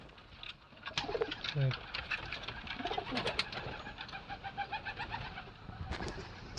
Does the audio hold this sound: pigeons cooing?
yes